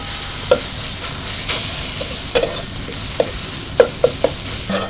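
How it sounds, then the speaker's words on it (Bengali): Ground coriander, cumin and turmeric fry in hot oil in a pan and are stirred, giving a constant close sizzle with several sharp scraping clicks from the spoon. "মশলাটা একটু ভেজে নেব নাড়াচাড়া করে"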